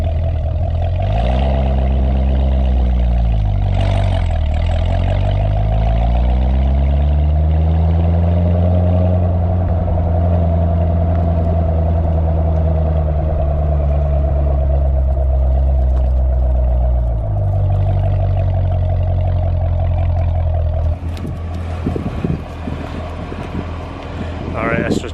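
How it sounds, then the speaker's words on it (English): A Chevrolet Corvette C7 Z06 on a drive-by, its exhaust droning loud and close as the engine note rises and falls through revs, with wind rush over the microphone and a sharper burst near the end. "we've got the GoPro on the back of the car so you can hear the exhaust"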